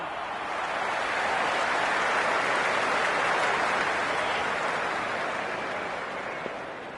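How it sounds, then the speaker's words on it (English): A cricket stadium crowd in the video game Cricket 26 sends up a steady, dense wash of cheering and applause, swelling gently then easing, a broad roar filling the space with no single voice standing out. "There's a buzz, a real buzz coming from the stands."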